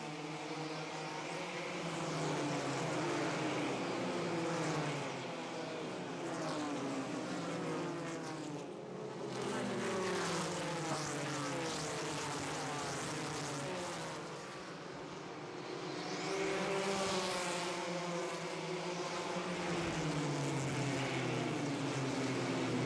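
NASCAR Busch Grand National cars racing at the 1991 Spring 200 as the field goes back to green: a loud, continuous roar of several engines whose pitch swells and falls as the cars pass, with no talk.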